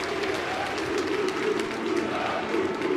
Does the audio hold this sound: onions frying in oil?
no